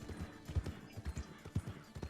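Horse hooves clip-clop in Red Dead Redemption 2, a Splashed White American Paint trotting in a steady, fairly close rhythm of soft thuds with no other sounds over them.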